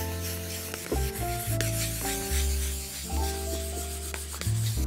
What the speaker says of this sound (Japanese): 今回は逆にまたヤスリで削って光沢を落としてます